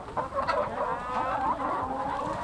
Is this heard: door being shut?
no